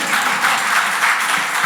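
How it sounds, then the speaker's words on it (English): An audience at a university forum applauds, a dense, steady burst of many hands clapping that fills the short moment at full strength with no talk. "Yeah, you can clap for that."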